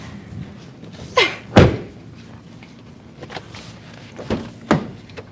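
Doors on a 2024 Kia Seltos EX Premium thud shut several times, two sharp close slams early and two more a few seconds later, with quiet rustling between them.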